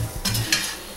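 Beef being tossed in a pot for beef bourguignon, a quick, close scraping and rustling stir with a faint sizzle, lasting only a moment.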